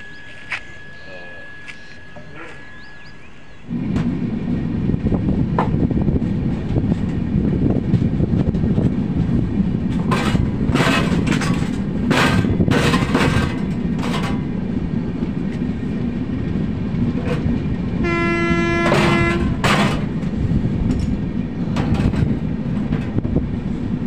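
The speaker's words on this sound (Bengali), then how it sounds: "ট্রেন তখন ছুটে চলেছে 109 থেকে 110 কিলোমিটার স্পিডে" The 12177 Chambal Express from Howrah to Agra runs at about 110 km/h through cold, foggy countryside: a loud, constant rumble and rattle of the moving train with rhythmic clatter, sharp clacks over track joints and a brief tonal blare near the end.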